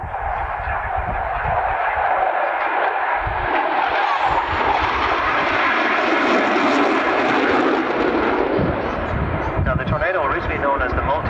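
A Panavia Tornado multi-role combat jet roars in for its airshow entrance at Newtownards, a loud sustained engine rumble and whine that swells and shifts in pitch, with a voice commentating underneath.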